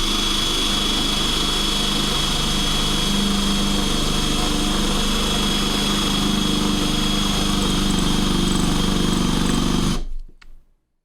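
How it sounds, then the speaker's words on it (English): A power drill fitted with a masonry bit bores into a fake silver eagle coin with a loud, continuous high-pitched whine for about ten seconds, then cuts off abruptly into silence. "Let's start drilling."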